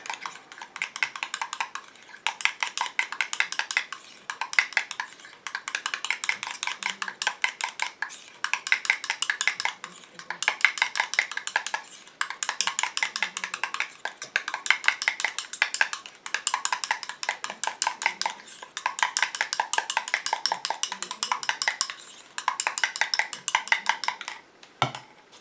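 A utensil stirs a homemade hibiscus night cream in a bowl, producing rapid rhythmic scraping and clinking in bursts separated by brief pauses, close and steady for a long stretch.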